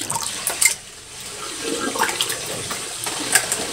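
Water runs and splashes while a shaved head is rinsed one-handed, a continuous close gush with uneven splatters and drips.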